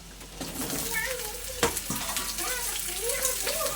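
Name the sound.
mashed green banana frying in oil with onion and chili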